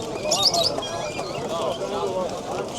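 Yellow-necked pigeons and other birds at the Sabunchu bird market chirp and coo nearby in a busy mix, with people talking over them throughout.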